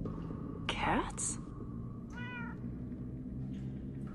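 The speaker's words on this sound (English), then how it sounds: "I hear a cat. It is Winslow." Winslow, a cat in the video game Minecraft Story Mode, lets out a couple of short, clear meows over quiet game background.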